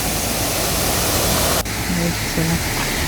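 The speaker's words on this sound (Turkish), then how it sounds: "Burada da büyük bir şelale var." Large waterfall in a green valley, a loud steady roar of falling water filling the scene, with a brief dip partway and faint sounds over the constant rush.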